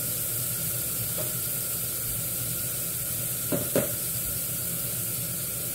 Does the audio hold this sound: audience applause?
no